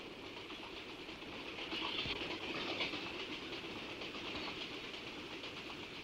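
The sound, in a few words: train running on railway line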